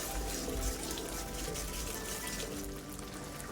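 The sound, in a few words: peas boiling in a pot for chaat masala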